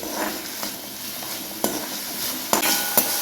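Green chillies roasting in a pan with a touch of salt for sabudana khichdi, giving a steady soft sizzle with a few sharp clinks and scrapes of stirring near the end, no voices.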